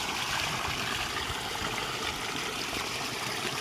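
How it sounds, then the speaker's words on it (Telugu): Water from a bore well motor pumps out and flows into a farm field early in the morning, a steady, close, continuous rushing and splashing with no voices. "వాటర్ వస్తున్నాయి పొలానికి ఇచ్చిన"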